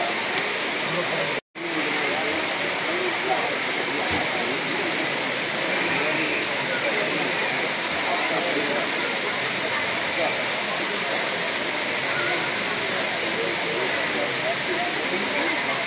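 Kutralam Main Falls roars as a steady, loud, dense rush of falling water that continues without a break apart from one momentary dropout.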